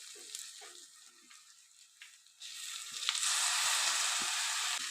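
Lentils and a bunch of mint leaves, with a small piece of tamarind, frying in a pan for mint chutney. A few soft knocks come first, then a steady close sizzle swells in and holds loud to the end.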